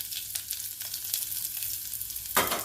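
Bitter gourd (paavakkaai) sizzling and frying in a pan for Udupi-style gosthu, a steady hiss with a louder burst near the end, no talk.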